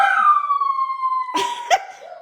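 A dog's long, sustained howl slowly falling in pitch, broken near the end by a couple of short, sharp barking sounds, loud and close.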